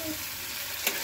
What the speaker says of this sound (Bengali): হলুদ আর লঙ্কার গুঁড়ো মিশিয়ে আমি মশলাটা দিয়ে এটা কষাবো